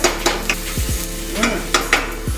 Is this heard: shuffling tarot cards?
no